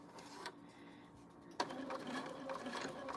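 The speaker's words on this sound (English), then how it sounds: "we're just going to top stitch all the way around" A sewing machine top stitches around a mug-maker project, kicking in abruptly after a short lull and running as a brief, close, rapid whir.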